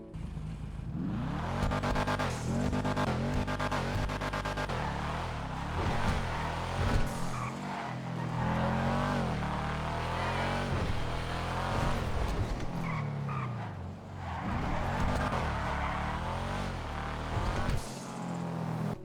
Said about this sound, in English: It's got that sort of deep rumble sort of thing to it, which is pretty nice